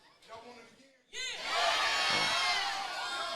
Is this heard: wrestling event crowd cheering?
yes